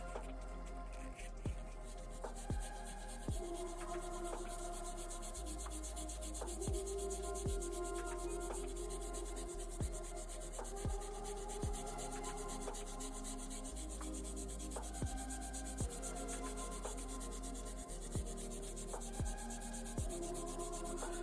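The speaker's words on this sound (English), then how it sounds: "And then I'm gonna hit this side and the other side again with the magic eraser." A magic eraser rubs back and forth over the metal contact pins of an NES game cartridge, a soft, steady scrubbing close by and quiet, with faint clicks as the cartridge shifts.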